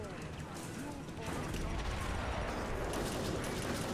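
Dense, continuous gunfire and explosive bursts from a grenade launcher fight in the video game Inversion, loud and sustained with a rumbling low end throughout, getting heavier after the first second.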